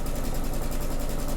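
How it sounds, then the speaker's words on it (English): Home sewing machine stitching a quarter-inch seam on a quilt block, a steady, fast, even mechanical whir with rapid needle pulsing, close and continuous throughout. "let me go ahead and feed this through the sewing machine"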